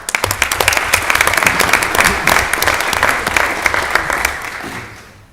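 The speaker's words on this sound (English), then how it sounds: "So y'all give them a round of applause." A council meeting audience breaks into a round of applause, dense steady clapping that fills the room for several seconds, then fades out at the end.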